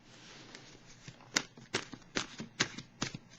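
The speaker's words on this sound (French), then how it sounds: "Je vais piger une carte de l'oracle de l'âme intuitive" Oracle cards being shuffled and drawn by hand, a soft papery riffle broken by a series of sharp, distinct slaps and flicks at irregular intervals, close and fairly quiet.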